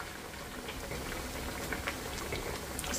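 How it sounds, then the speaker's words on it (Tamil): Vadas frying in hot oil on a medium flame give a dense, even bubbling sizzle with scattered light pops, close and constant throughout, with no voices. "வடையை போட்டுட்டு கொஞ்சம் மீடியம் ஃப்ளேமில் வச்சிடலாம்"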